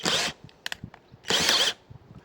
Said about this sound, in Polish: tak gruby, że nawet wkrętarka już wysiada, ale to taka byle jaka wkrętarka, zaraz wezmę lepszą